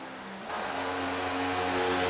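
A race car in a racing video game roars past toward the finish line of a Michigan oval, its engine tone climbing and swelling louder as it draws near, steady and alone.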